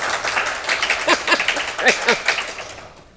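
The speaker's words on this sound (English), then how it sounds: "I'll never get used to applause, but keep it coming." Applause from a lecture audience welcoming a visiting artist, a short, dense patter of clapping from a modest crowd that swells briefly and then fades out over about three seconds.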